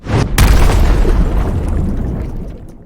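Heavy explosion as a hurled sword strikes its target on a rooftop in an animated sword-master fight: a sudden loud boom opening into a deep, rumbling roar that slowly fades away.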